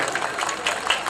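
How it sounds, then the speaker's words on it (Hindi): A crowd at an all-India mushaira poetry gathering in Mau claps in a short, dense burst that stays even and moderately loud. "अगर बात समझ में आ गई हो तो एक बार तालियां बजा दीजिए आप।"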